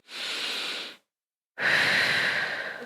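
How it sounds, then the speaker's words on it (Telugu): Slow meditation breathing, close and soft: one long airy inhale, a brief silent pause, then a longer, fuller exhale. "నిదానంగా గాలి పీల్చుకొని వదలండి"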